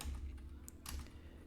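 Code is typed on a computer keyboard in a quick, close, quiet run of soft key clicks with a couple of sharper taps.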